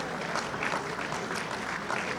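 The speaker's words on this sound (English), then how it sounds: "A round of applause for our state officials" An audience at a dinner event claps for state officials, a steady wash of hand claps filling the room at moderate volume, continuous and without cheering.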